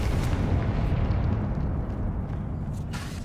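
A Confringo blasting curse explodes in the Hogwarts Legacy video game, producing a loud, sustained roaring blast with deep rumble that slowly tapers over several seconds, with no voices.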